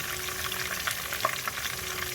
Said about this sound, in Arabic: نقلي الباذنجان بتاعنا زي ما احنا شايفين كده